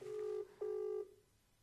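A phone being dialled to place a call, with two clear electronic keypad tones, each held for a moment, followed by quiet.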